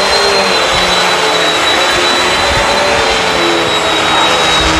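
A Bissell CleanView Swivel Pet upright vacuum cleaner roars loudly and steadily while grooming a big pile rug, a constant close whine with no breaks.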